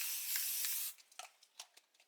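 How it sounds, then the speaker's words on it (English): Basting spray hisses onto mesh embroidery stabilizer in one steady burst of just under a second, followed by faint rustling and handling noises, close and quiet. "So what I'm going to do is take my basting spray,"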